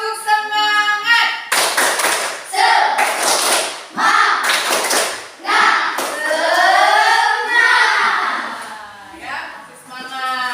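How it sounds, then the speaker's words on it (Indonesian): A school class performs the rhythmic tepuk semangat clapping routine, with loud bursts of patterned claps alternating with children chanting along. "Tepuk semangatnya."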